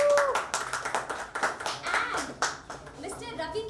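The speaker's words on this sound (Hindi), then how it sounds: "Can we have some clap please?" Audience applause at a song launch event, a burst of hand clapping from the crowd, close and lively, with a voice breaking in near the end.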